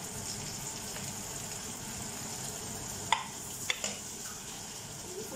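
Onions and garlic sizzling in hot oil in a pan over full heat, a steady soft hiss with a couple of brief sharp clinks of a utensil, quiet and close with no talking.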